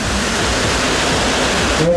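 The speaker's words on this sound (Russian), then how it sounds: "Здесь даже есть искусственная волна." Loud, continuous rushing water of an artificial wave in a water park fills the clip, a dense wash of churning surf with no distinct breaks.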